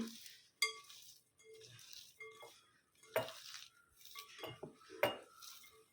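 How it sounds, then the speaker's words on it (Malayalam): Corn kernels are tossed and mixed by hand with spice powders in a metal bowl for corn pakoda, producing intermittent light rattles, clinks and rustles in short bursts, close and fairly quiet, with no talking. "കൈകൊണ്ട് തന്നെ നന്നായിട്ട് മിക്സ് ചെയ്യുവാണ്"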